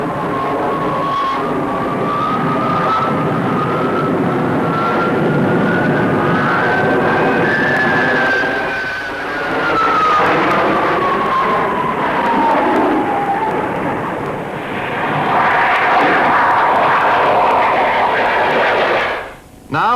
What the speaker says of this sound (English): Let's follow the fighter bombers in a formation roll, flying as if linked by invisible threads